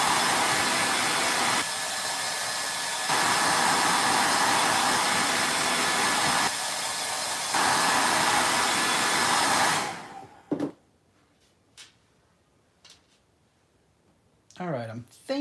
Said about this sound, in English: So, blow dryer again.